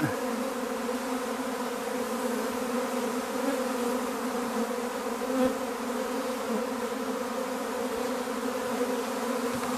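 A dense, continuous buzz of many swarming honeybees flying around their hive, steady and enveloping for the whole stretch, close and fairly loud.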